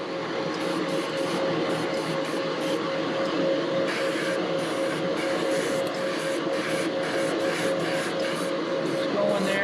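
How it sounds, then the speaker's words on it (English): An airbrush running steadily while painting a Tamiya M41 tank model, giving a constant close hiss with a mechanical compressor drone beneath and small flickers in the spray. "Turn our airbrush on."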